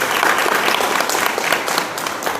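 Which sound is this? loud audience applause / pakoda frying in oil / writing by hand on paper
loud audience applause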